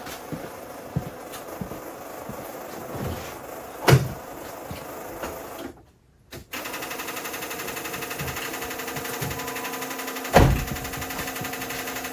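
A Ford 6.0 Powerstroke diesel with rough injectors idles cold in a steady, close drone, broken by a sharp knock, a brief drop to near silence, then the engine running on with another loud thud later.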